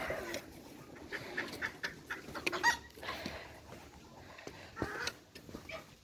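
Small bantam chickens cluck and murmur softly nearby, with scattered quiet scratching and shuffling sounds throughout.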